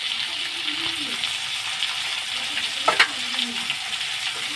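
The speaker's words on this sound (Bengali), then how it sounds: "পটলগুলোকে আমি ভালো করে নেড়ে ছেড়ে ভেজে নেবো লাল লাল করে।" Pointed gourd pieces fry in hot oil with turmeric, giving a close, steady sizzle, with a brief scrape of stirring near the end.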